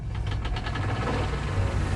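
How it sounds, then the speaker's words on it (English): A rear-mounted engine powering a winch runs steadily and close by, giving a continuous low, throbbing drone with a faint knocking pulse and no speech. "That's the engine in the back that powers the winch"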